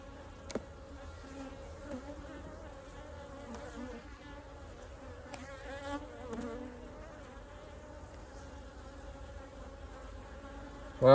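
Honeybees buzz steadily and close around open beehive frames during a search for an unmarked queen, a dense continuous drone lasting throughout with a sharp knock near the end.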